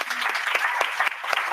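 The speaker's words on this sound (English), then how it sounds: "Y'all please clap for Ms. McNeil." An audience claps for a panelist at a live panel event on HBCUs, a steady burst of close, dense applause lasting a moment and filling the room.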